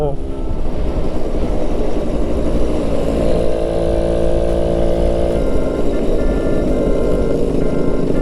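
A Suzuki RC100 two-stroke motorcycle runs with a loud, steady engine drone close by, continuous throughout, with voices talking over it.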